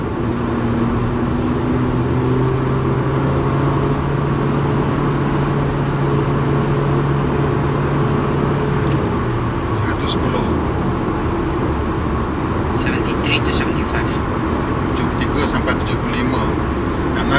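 A Honda City car speeds up on the road at around 2000 RPM, a steady low engine and road hum inside a quiet cabin, with someone talking throughout.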